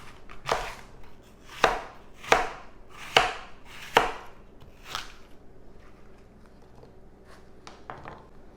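A handful of mint leaves chopped with a knife on a board, about six sharp, close chops in an uneven rhythm, then a few softer taps trailing off.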